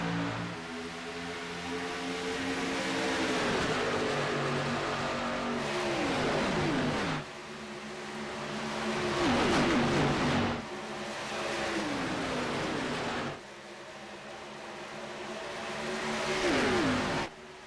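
Race car engines from the iRacing racing game at Fontana roar loudly in repeated waves, each rising pass swelling and pitching down as cars sweep by, with continuous engine drone throughout and no talk.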